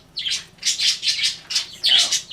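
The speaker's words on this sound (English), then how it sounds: "I have 3 birds flying around my house right now, and they're all terribly, terribly interested in my iron." Several pet birds squawk and chirp indoors in a house during home sewing and ironing, in repeated sharp bursts close by, with no talking.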